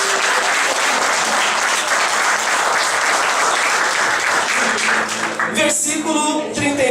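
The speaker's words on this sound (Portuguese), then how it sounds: "Um forte aplauso, Jesus." A church congregation breaks into loud, sustained applause, dense clapping from a large crowd filling the room for several seconds before fading as a voice comes through.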